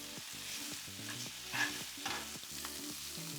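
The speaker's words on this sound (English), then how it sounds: "We're gonna flash fry them." Vegetables flash-fry in a skillet for beef pad Thai, a steady close sizzle with stirring scrapes, while soft background music plays underneath.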